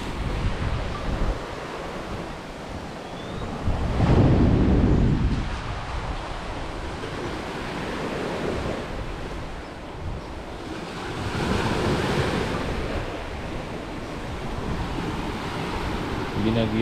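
Strong surf breaks on a storm-eroded beach at Coron, Palawan, a steady roar of waves with a louder crash around the fourth second and another swell near the twelfth, with wind buffeting the microphone throughout.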